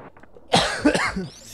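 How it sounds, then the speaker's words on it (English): One person with a cold gives a harsh, close cough of several rough bursts in quick succession, after a quiet moment. "that's a real cough."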